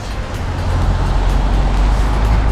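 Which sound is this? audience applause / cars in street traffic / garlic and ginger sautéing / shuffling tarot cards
cars in street traffic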